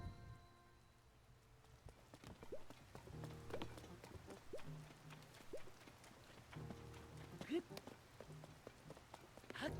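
Steady rain falls in Zelda: Tears of the Kingdom, a soft continuous patter with scattered droplet ticks, faint and layered under game sounds and occasional voice.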